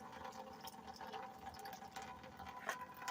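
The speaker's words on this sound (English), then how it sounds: "now we're getting some sandy, murky water coming out" Sandy, murky water trickles steadily out of the PVC pipe at the bottom of a DIY bucket sand filter layered with sand, lava rock and bone char, a soft continuous wash of flow at low volume.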